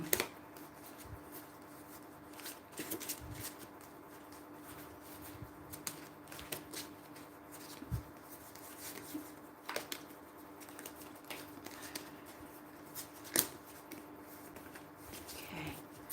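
Tarot cards are shuffled by hand during a card reading. The riffling and soft slaps are quiet and irregular, with occasional sharper taps as the deck is cut and squared.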